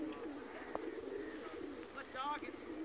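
A pigeon coos softly in a quiet setting at a pigeon-flying contest, with a few faint rolling coo notes and light background voices.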